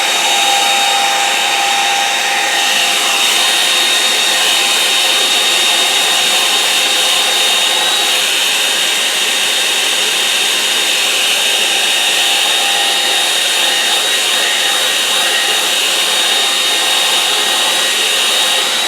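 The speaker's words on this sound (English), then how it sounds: "let's get it thoroughly dry now." A hair dryer blows a steady, loud, unbroken whoosh across a wet watercolour painting of a lakeside scene, running alone without pause for the full stretch.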